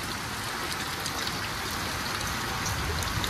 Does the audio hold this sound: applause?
no